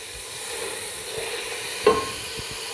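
Carrots sautéing in a pan for Chinese rice, a soft steady sizzle with a few light scraping stirs and one sharper knock of a utensil near the middle.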